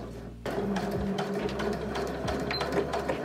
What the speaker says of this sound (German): Ich nutze dafür einen Geradstich an meiner Nähmaschine und die Nadel ist auf einer mittleren Position